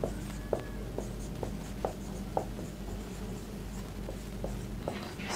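A pen writes by hand on paper in short, scratchy strokes, about a dozen quick bursts at uneven intervals over a low room hum, close and fairly quiet.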